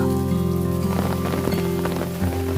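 Rain drips steadily from the eaves of a mountain temple in Buyeo, a dense patter of close drops splashing onto the ground beneath under a constant hiss of falling rain.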